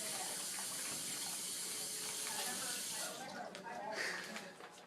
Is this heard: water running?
yes